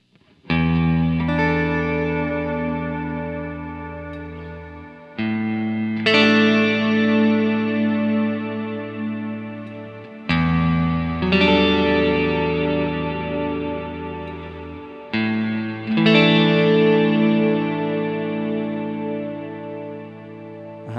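Guitar played through a Strymon Big Sky reverb pedal set to a large modulated reverb: four strummed chords, each ringing out and slowly fading in a wide, shimmering wash, with no voices.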